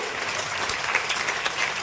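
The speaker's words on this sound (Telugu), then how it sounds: "గట్టిగా అప్లాజ్ ఇవ్వండి." At a Vestige sales seminar in Kothapeta, the audience claps in a brief burst of applause, a close, dense patter of hands with a few sharper individual claps standing out.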